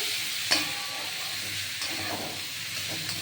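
Ground spices frying in a pan make a steady hissing sizzle with one sharp clink near the start, close and moderately loud, with no voice.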